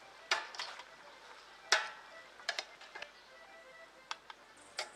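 Food is stirred in a pot while cooking poultry salmi, with scattered sharp clicks and scrapes of a utensil against the pot over a faint sizzle, sparse and quiet.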